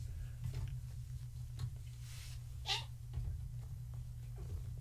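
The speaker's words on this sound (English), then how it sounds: "Those squeaks are because the kittens don't know how to play nice yet." Kittens squeak in short, high cries while they play rough, scattered and fairly close over a low steady hum, with one sharper squeal standing out.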